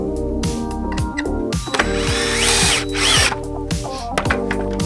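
A cordless power drill drives 2.5-inch coated deck screws into wooden raised garden bed boards, its motor whirring and ramping in repeated bursts with ratcheting clutch clicks, loud and close.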